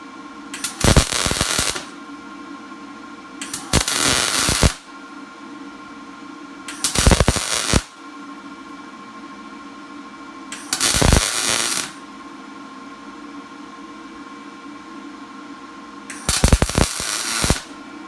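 Wire feed welder joining two pieces of metal across a gap, five separate bursts of loud crackling, sputtering arc, each lasting about a second, with a steady low hum between them.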